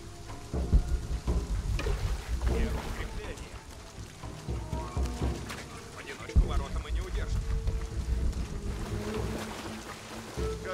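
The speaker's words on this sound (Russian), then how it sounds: "Так подтверждаем. Это гром." Thunder rumbling during a heavy rainstorm in the video game Shadow of the Tomb Raider, low rolling booms over steady rain and water sounds, with voices talking throughout.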